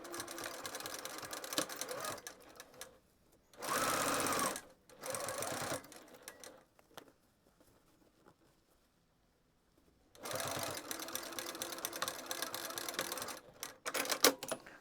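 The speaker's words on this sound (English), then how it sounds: "I just sew the opening closed." A sewing machine stitches a small pouch's opening closed with a back tack, sounding in short close bursts separated by quiet gaps, with faint talk in between.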